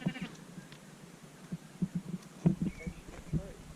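Sheep bleating several times in short irregular calls, moderately close, over a quiet outdoor background.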